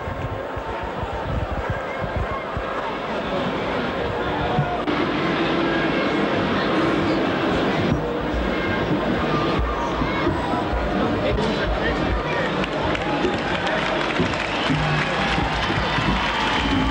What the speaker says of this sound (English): Getting a little bit of applause.